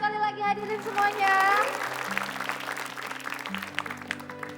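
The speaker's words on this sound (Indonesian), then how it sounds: "Boleh minta tepuk tangannya sekali lagi hadirin semuanya" Guests at a cake-cutting celebration give a round of applause, steady clapping running under music and a voice speaking over it for several seconds.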